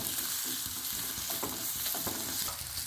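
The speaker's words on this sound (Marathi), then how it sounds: "लाल तिखट छान परतून घेऊया गॅस कमी ठेवायचा आहे म्हणजे हे तिखट हळद वगैरे करपणार नाही" Red chili powder and turmeric sizzle steadily as they are sautéed on low heat in a pan for a sweet-spicy raw mango curry, with a constant crackling hiss and light stirring scrapes.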